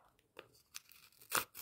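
A paper packet from a paper collectibles set is torn open in a few short, crisp ripping bursts, ending in a louder, closer tear.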